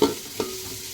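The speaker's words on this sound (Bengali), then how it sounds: "ভাত তো এখনও ঝাঁকিয়ে যাচ্ছি কারণ সবজি এখনও ভাজা হয়নি এই যে সবজি ভাজছি" Vegetables stir-fried in a pan while rice is being tossed, a steady hiss of sizzling with two sharp scraping stirs, loud and close with no voices.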